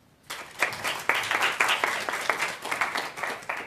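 Audience applause at a psychotherapy conference, a dense burst of hand clapping that starts abruptly and continues steadily, fairly close, with faint voices underneath.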